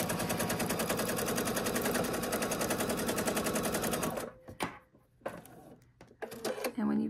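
A sewing machine stitches a Polaris quilt block in a fast, steady run of mechanical stitching for about four seconds, then stops as a person starts talking over faint handling sounds.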